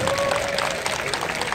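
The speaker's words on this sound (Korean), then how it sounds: "우리 양방은 선생을 통해서 박수 한번 보내주시기 바랍니다" An audience at a Korean event claps in a short, dense burst of applause, fairly close and loud throughout.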